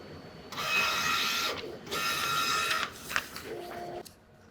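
An Epson SureColor G6070 wide-format printer runs a nozzle check, giving two long bursts of mechanical printing noise with a short gap between, then fainter clicks and a brief tone before it goes quiet.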